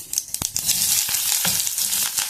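Onions tossed into hot oil with mustard seeds, cumin, green chillies and curry leaves sizzle loudly and steadily up close, broken by quick spoon taps and scrapes against the pan.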